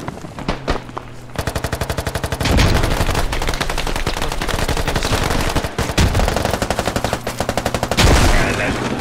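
Rapid automatic gunfire from the Squad video game on a Ukraine server, loud and nearly continuous, with dense repeated bursts and heavier shots layered over it throughout.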